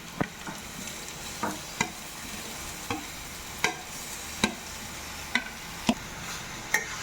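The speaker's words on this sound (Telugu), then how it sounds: "క్యారెట్ తురుము 2 కప్స్ వేసుకుంటున్నాను." Two cups of grated carrot fry in a pan for carrot halwa. A spatula scrapes and taps the pan about once a second over a soft, continuous sizzle, close and fairly quiet, with no speech.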